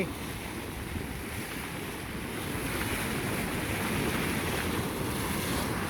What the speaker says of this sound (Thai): น้ำร้อนใต้ดินนะคะ ของจริงนะคะ น้ำร้อนจริงๆ เห็นไหม พุ่งปุดปุดปุดปุดเลย